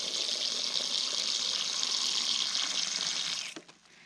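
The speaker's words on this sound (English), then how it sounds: "fill this up the rest of the way with water" Tap water gushes steadily into a container to top up a comfrey tea mix, a loud continuous rushing pour that runs for over three seconds before cutting off abruptly near the end.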